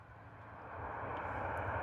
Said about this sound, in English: Very nice arrival from EasyJet. 214 variant on the 320 there with the buckets.